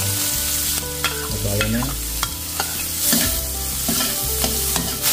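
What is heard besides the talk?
sautéing garlic, onion and ginger in a pan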